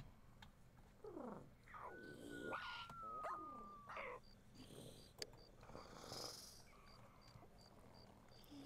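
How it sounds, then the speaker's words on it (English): Soft, low snoring from a dragon in The Sims 1 game, repeating in slow breaths alongside faint purring and chirping game effects. "Oh, it's the dragon snoring!"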